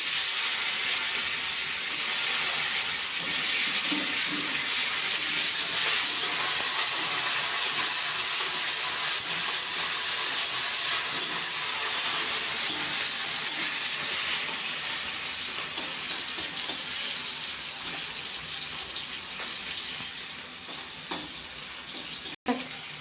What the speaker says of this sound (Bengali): সেই তেলে কাঁচা লঙ্কা আর একটা শুকনো লঙ্কা ফোড়ন দিয়ে দিলাম দিয়ে কালো জিরে একটু দিয়ে দিলাম দিয়ে টমেটো কুচনোগুলো